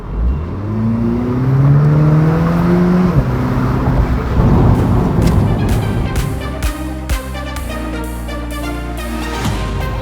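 A 2021 Mini Cooper S Convertible's turbo petrol engine revs up and holds a rising, throaty drone, then settles into a rough idle with sharp pops and crackles, loud and close.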